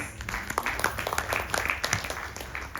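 Audience applause at an evening Sri Ganesh Chaturthi Utsav festival program: a steady, moderately loud wash of many hands clapping, with irregular sharper claps and no clear voices.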